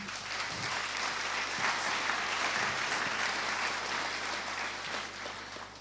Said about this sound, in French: On vous applaudit d'abord, merci beaucoup.